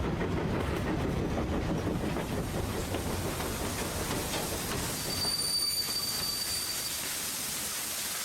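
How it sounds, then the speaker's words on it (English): Train from The 39 Steps PC video game pulling into a small country station, a steady loud rumble of wheels and carriages with a thin high squeal appearing near the end as it slows. "You were approaching the station at which I had got out yesterday."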